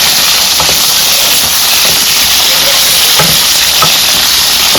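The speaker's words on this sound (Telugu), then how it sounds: "కాకరకాయలన్నీ వేసేసుకొని మీడియం ఫ్లేమ్లో బ్రౌన్ కలర్ వచ్చే వరకు ఫ్రై చేసుకుందాం." Bitter gourd pieces frying on a medium flame, making a loud, continuous, close hiss with faint stirring taps underneath.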